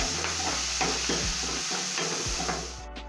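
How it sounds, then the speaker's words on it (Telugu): Green chillies, chopped onions and curry leaves fry in hot oil in a pan, giving a steady close sizzle with a few soft stirring scrapes throughout. "పచ్చిమిర్చి, ఉల్లిపాయలు, మనం కట్ చేసుకున్న ఉల్లిపాయలు, కరివేపాకు ఇట్లా ఫ్రై చేసుకోవాలి"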